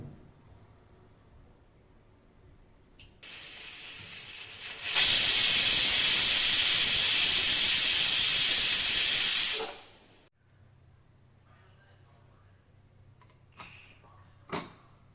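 A pressure cooker whistle releases a loud, steady hiss of steam for several seconds, then cuts off abruptly, leaving quiet kitchen background with a few faint clinks.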